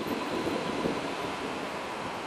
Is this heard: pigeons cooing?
no